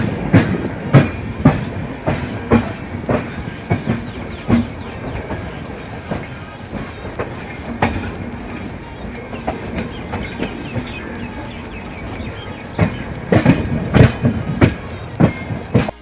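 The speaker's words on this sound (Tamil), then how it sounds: "எனக்கும் வந்து ட்ரெயின் சத்தம் வந்து ரொம்ப பிடிக்குங்க" A train rolls along rails with a steady rhythmic clickety-clack of wheels over rail joints, moderately close, the beats repeating throughout and growing louder toward the end, with no talking.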